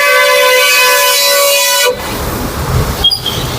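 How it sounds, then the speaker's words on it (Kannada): A loud, steady truck-style air horn blares on a highway in India for about two seconds, then cuts off into passing road traffic noise, with a brief shorter horn toot near the end. "ಹಾರನ್ಗಳು ಹೊಡ್ಕೊಂಡು ಹೋಗ್ತಾ ಅವ್ರು ಅವ್ರ ಪಾಟಿಗೆ ಅವರು"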